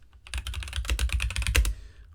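Rapid typing of code on a computer keyboard, a close, busy run of crisp key clicks lasting about two seconds before it stops, with no talk.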